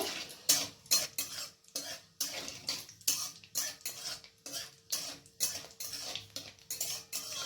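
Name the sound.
frying whole garam masala, bay leaf and cumin in a pan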